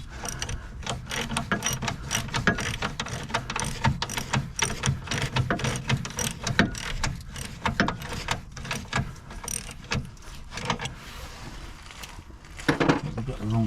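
Socket wrench ratcheting a subframe crossmember bolt on a car, a rapid continuous series of close metallic clicks throughout, with a brief clatter near the end.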